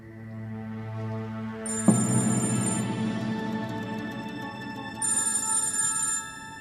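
A telephone rings in a dramatic scene, two bursts of bright electronic ringing, the second arriving after a short pause, layered over sustained background music without speech.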